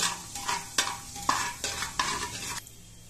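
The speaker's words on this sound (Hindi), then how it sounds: "एक टेबल स्पून के करीब हम मिला लेंगे जीरा, इसको हल्का फ्राई करने के बाद हम इसमें प्याज डालेंगे।" Cumin seeds fry in hot oil with bay leaf in a pan for Bengali mutton curry, under a soft steady sizzle broken by regular scraping strokes of a spoon stirring the pan.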